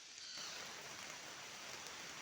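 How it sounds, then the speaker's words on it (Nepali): Rain falls outdoors as a steady, even hiss that continues throughout at a moderate level, with no other clear sounds over it. "पानी परिरहेछ है गाइस"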